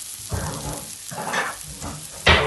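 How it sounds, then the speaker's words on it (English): Mushrooms sauté in butter and meat cooking juices in a pan over medium heat, giving a crackling sizzle in bursts as they are stirred, ending in a louder hiss, with no voices. "I'm going to saute these mushrooms down for about a minute"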